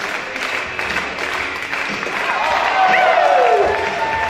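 A high school event crowd claps and cheers, steady applause building with whoops and voices mixed in, while music plays underneath.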